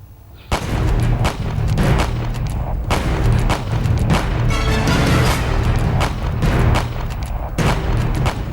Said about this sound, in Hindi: जम्मू कश्मीर में सोपोर के जंगलों में इस वक्त जवान अपने सबसे सुरक्षित ऑपरेशन में गोलियां दाग रहे हैं।